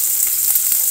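Tomatoes sizzle and crackle in a hot pan, a loud, dense frying hiss holding steady from start to finish.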